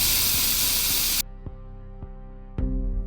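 A keychain pepper spray canister fires one loud, steady hiss lasting over a second, then cuts off abruptly, leaving a quiet background with a few faint knocks and a thump.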